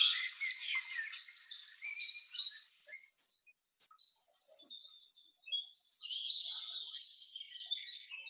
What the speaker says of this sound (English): So you hear that beautiful music of it's just birds.